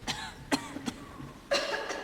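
Several separate coughs from a church congregation, short sharp bursts spaced across a couple of seconds, one close and others further off, with no talking.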